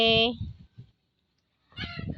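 A domestic duck gives a loud honking quack, followed by quieter calls and a pause, then a burst of several duck calls, close by.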